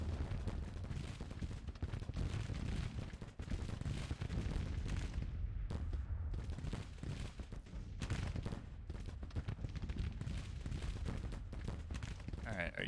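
Gunfire in a Civil War video game: dense, continuous volleys of musket and artillery fire crackling and booming without pause, steady and fairly loud.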